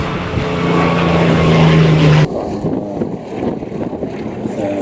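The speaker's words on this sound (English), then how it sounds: "Bristol had developed a series of very interesting round engines, radial engines." A Bristol radial-engine aircraft at the Duxford air show makes a loud, close propeller drone with a steady hum that drops away suddenly midway, leaving wind buffeting and rumble behind.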